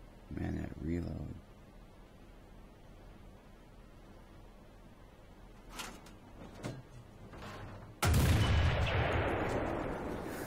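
Tank cannon fire in War Thunder, one loud, sudden blast with a long decaying roar after a stretch of quieter engine rumble and a few short clanks, with a voice talking early on.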